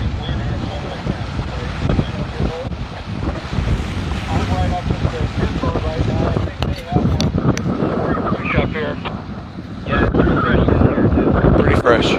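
Strong wind buffets the microphone on a lake during a sailboat race, with rushing gusts, splashing water and boat noise throughout, growing louder near the end.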